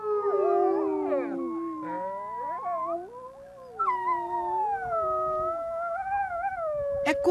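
A man in Norway imitates wolves with his own voice, giving long wavering howls that rise and fall, several overlapping, close and fairly loud, with a brief pause midway and no talking.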